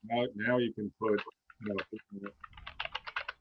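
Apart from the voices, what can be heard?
typing on a computer keyboard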